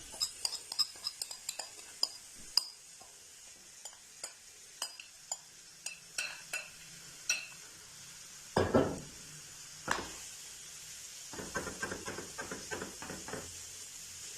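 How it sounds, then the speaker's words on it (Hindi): Marinated chicken going into a hot pan on the stove, soft utensil clinks first, then a sudden burst of sizzle and later a crackling fry, all fairly quiet. "अब हमने जो चिकन जो है वो मैरिनेट करके रखा था वो पैन में डाल देंगे"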